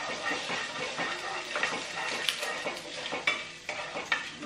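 Lentils frying and being stirred in a pan, a close, steady sizzle broken by scraping stirs of a spoon against the metal, moderately loud with no voices.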